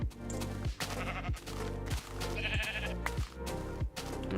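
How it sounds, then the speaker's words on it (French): Sheep in the game Minecraft bleating in a rapid series of short, wavering calls, close and clear with no talk over them. "il y a 2 moutons"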